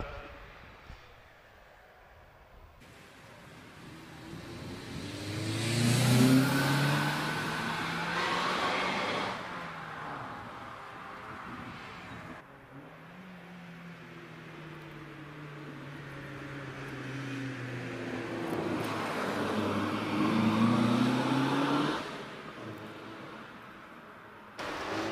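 A Mazda MX5 on the Prescott hill climb course gives two separate engine pulls. Each time the revs climb and rise in pitch, and between them the car sounds quieter and farther off.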